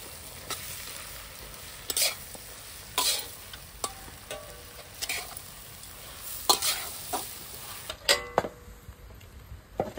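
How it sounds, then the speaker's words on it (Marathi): Soaked puffed rice stirred into a pan of fried peanuts, onion, tomato and lentils for a Marathwada murmura poha snack, with soft scraping and light sizzling punctuated by sharp utensil clicks, no voices. "आता आपण त्याच्यात हे भिजवलेले मुरमुरे टाकत आहोत।"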